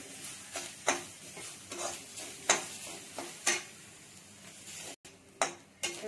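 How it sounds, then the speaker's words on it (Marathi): Fresh grated coconut is roasted in a pan, with a faint low sizzle under a slow, regular series of scraping spatula strokes, close by and with no voices. "ओला नारळ घ्यायचा आहे परतून, हा पण एक तांबूस रंगावरती परतायचा आहे"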